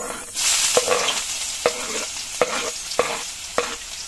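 Onions frying in a pan with a steady sizzle, punctuated by about six sharp utensil strokes against the pan at a regular rhythm, close and clear.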